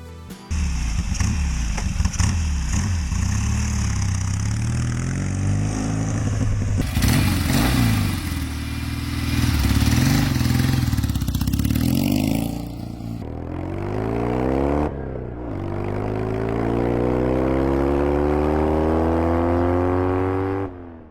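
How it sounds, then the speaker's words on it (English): A Commando parallel twin motorcycle rumbles and revs, its deep exhaust note rising and falling through throttle blips and accelerations, loud and close throughout. "Its exhaust note is warm and smooth, yet strong enough to assert its presence with unmistakable character"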